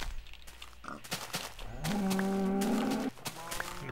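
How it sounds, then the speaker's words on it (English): A Minecraft cow lets out a loud, sustained moo lasting about a second, surrounded by short in-game clicks and thumps. "Stupid cow, get out of my way."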